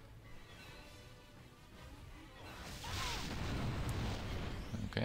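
Missile explosions from the necklace of missiles spell in a fantasy video game, heard as a dense, noisy rumble of blasts that swells louder about halfway through and holds a loud crackling barrage to the end, with no talking.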